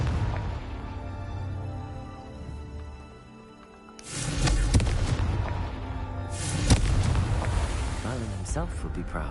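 A Confringo fire spell bursts in Hogwarts Legacy with a heavy booming blast and a second rumbling explosion shortly after, over game music and a voice talking.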